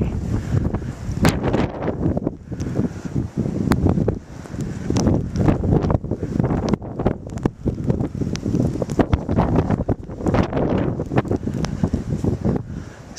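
Strong wind roars without letup during a snowstorm with 30 mph gusts, buffeting the microphone in steady loud gusts and rushes; no voices are heard.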